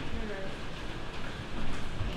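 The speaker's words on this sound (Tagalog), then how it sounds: "Umuulan tayo ng ice cubes." Hail pelting down during a storm in Canada, a dense steady patter of icy pellets striking surfaces close by, growing louder toward the end, with a voice faintly present.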